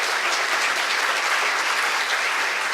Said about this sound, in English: can we please cheer our volunteers to do another hard day today